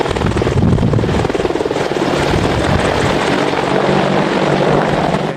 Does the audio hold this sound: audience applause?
no